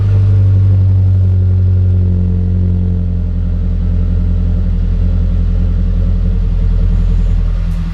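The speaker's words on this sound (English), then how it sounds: "This is how my new exhaust is sounding." A car with a newly broken-in aftermarket exhaust idles and revs with a loud, deep, steady rumble, close to the tailpipe, with no voices.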